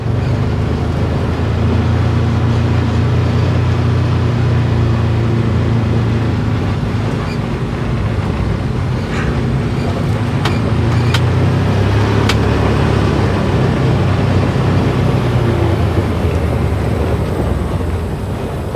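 A Can-Am Defender side-by-side drives down a gravel road, its engine droning steadily and loud throughout with tire and gravel rumble beneath, a few sharp rattles near the middle.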